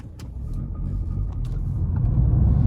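Audi A4 S line with a 150 bhp manual gearbox driving on the road, its low engine and road rumble steady and close throughout, slowly building in loudness.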